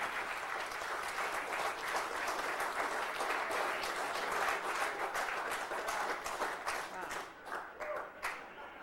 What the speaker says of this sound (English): Mission Control just erupted in applause